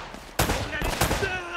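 Gunfire in the video game Uncharted: Drake's Fortune, two sharp close shots in quick succession with a brief ringing tail, loud and alone.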